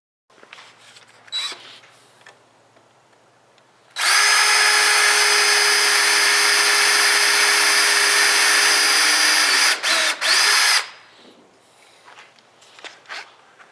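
A power drill fitted with a 3/16 countersinking bit bores into wood in one loud, steady whine lasting several seconds, with quiet handling noises before and after.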